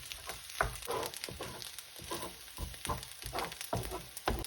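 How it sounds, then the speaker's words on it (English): Whisked eggs seasoned with salt and pepper frying in a pan beside rice, a soft crackling sizzle with scraping and stirring knocks at an uneven pace, quiet and close, without speech. "And I'm getting 2 eggs I've whisked before, added a bit of salt and pepper to them. This goes on the other side. Let that cook."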